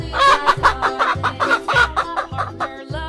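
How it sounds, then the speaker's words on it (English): A chicken clucks steadily nearby, giving a rhythmic series of about eight short, loud clucks over three seconds with nothing else heard. "Chicken."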